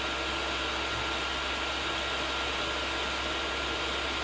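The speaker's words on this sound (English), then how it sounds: "Alright, let's bring that fan speed down." A diesel heater runs with its fan turned down to the lowest setting, giving a constant, even broadband whoosh with a low hum underneath, steady and unchanging throughout, with no voices.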